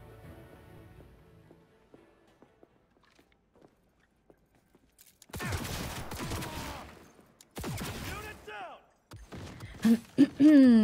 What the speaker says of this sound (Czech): A někdo mi střílí do zad.